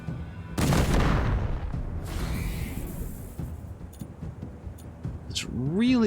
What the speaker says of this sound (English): Let's toss a grenade in their vicinity.